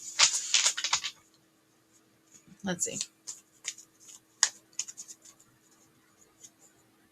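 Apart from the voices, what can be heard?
shuffling tarot cards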